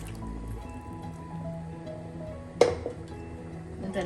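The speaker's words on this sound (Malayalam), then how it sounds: "ജാറിൻ്റെ ഗ്രേവിയും കൂടെ ഒഴിക്കാം." Chicken gravy is poured from a mixer grinder jar into a cooking pan, giving soft liquid glugs and drips, then a sharp clink of the jar against the pan, all fairly quiet.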